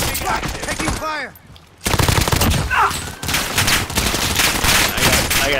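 Video game battle with loud, rapid automatic gunfire bursts, briefly pausing, then resuming in sustained close-range volleys mixed with game effects.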